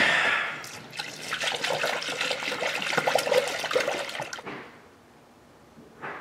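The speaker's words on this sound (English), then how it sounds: "So now that it's done kind of blooping up, the air is basically being forced out of the system." Coolant glugs and bloops as it is poured into the cooling system of a Dodge Caravan 3.3L V6, a close, bubbly gurgling stream that stops abruptly, leaving near quiet and then a brief final splash.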